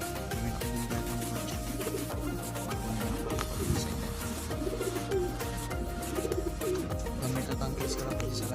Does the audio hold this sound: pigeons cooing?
yes